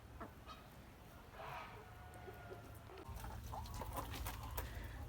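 Young Amrox hens in a poultry yard give soft, intermittent clucks and calls at a distance, faint over a low steady background hum with no speech.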